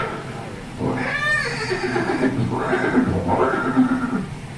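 Chetak, the loyal horse of Maharana Pratap, whinnies loudly and close, a drawn-out neigh followed by further shaky calls over a dense background.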